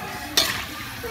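Pork skin deep-frying in hot oil, a brief burst of crackling sizzle as pieces are stirred, close and moderately loud.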